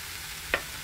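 Sausage and Spam stirred into a pan of kimchi stew, two short scraping clatters over a low steady simmer.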